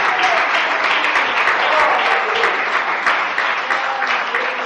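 A church congregation claps together in praise, loud dense applause that holds steady throughout with no talking over it.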